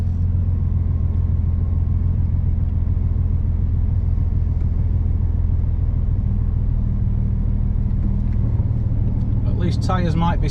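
A Nissan 350Z on a sprint run at Blyton Park drones loudly and steadily from inside the cabin, a dense low engine rumble throughout, with a driver speaking over it near the end.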